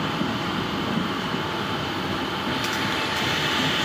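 Interior of a moving local passenger train, a steady, moderately quiet rumble of running coaches, continuous with no voices.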